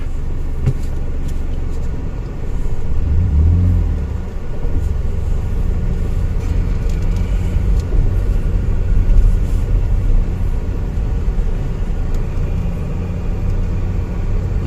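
A car being driven on a test run to check its ABS wheel speed sensors gives a steady low engine and road rumble. It grows a little louder after the first couple of seconds and then stays even and continuous, with no talking.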